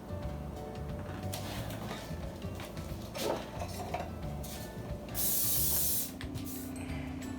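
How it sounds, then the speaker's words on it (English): A short hissing burst of cooking spray onto a muffin tin, about a second long, amid quiet kitchen clatter of pans and utensils. "I need to spray the muffin tin"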